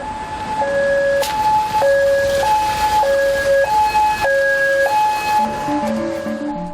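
An ambulance siren wails in a loud two-tone hi-lo pattern, switching pitch about every half second as the vehicle heads to an emergency room before dawn. It is close, with road rumble underneath.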